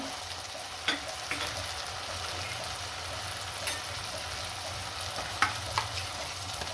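Spice paste of turmeric, chili powder, cumin, ginger and garlic sizzles steadily while frying in a pan, with a few sharp scrapes and clicks of stirring over the continuous hiss.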